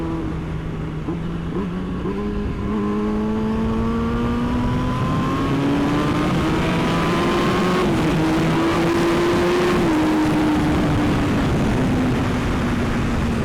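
A Yamaha R6 sport motorcycle pulls hard in third gear: a loud, close engine note climbs steadily in pitch, eases briefly, then keeps revving. The engine is heard alone, with no talk.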